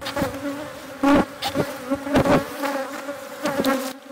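Honey bees buzz close by at apiary hives in the rain, a dense, wavering drone, with individual bees swelling louder as they pass near.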